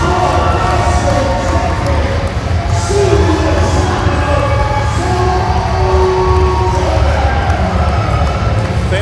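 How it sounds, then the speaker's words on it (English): Crowd of wrestling fans on their feet cheering and applauding at a four-way final match, a dense continuous roar filling the arena, with an announcer talking over it. "fans on their feet applauding"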